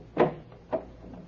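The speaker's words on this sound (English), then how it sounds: "Open the door." Door opening sound effect in an old English radio drama: two short, clunky creaks close up, the second softer, with no talk over them.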